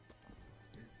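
Horse hooves clop in a steady walking rhythm in a video game, close and fairly clear over a constant low hum and background game sound.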